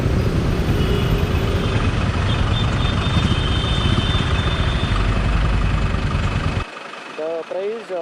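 A Royal Enfield Meteor 350 motorcycle idles with a loud, even, close-up exhaust rumble that cuts off abruptly near the end, followed by a brief voice.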